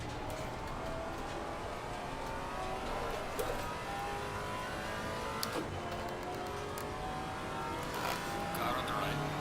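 A steady, droning race car engine from the VR racing game Assetto Corsa Competizione at Watkins Glen, including a Ginetta, revving continuously with faint bumps and clicks and other cars nearby.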